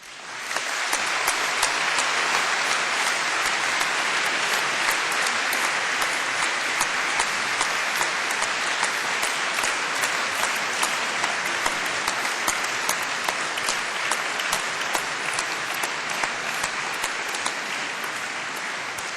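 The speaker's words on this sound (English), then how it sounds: "say a special thank you by giving them all a big round of applause" Sustained, dense applause from a large graduation ceremony audience at Cardiff University, steady and loud throughout with no break, crowd clapping evenly for the full length.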